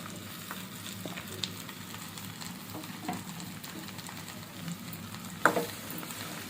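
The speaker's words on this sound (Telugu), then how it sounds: "ఆ తర్వాత కట్ చేసుకున్న బెండకాయ ముక్కల్ని ఆనియన్ ఫ్రైలోకి వేసేసేయండి" Cut okra pieces frying with onions in hot oil, a steady close sizzle and crackle with occasional stirring clinks, no talk over it.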